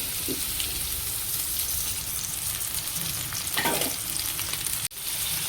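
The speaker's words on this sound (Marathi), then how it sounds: "मी फोडणी टाकत आहे आता" Tempering (phodni) of chillies and onion in hot oil, a continuous crackling sizzle close by, with a louder spatter burst midway and a sharp clatter near the end.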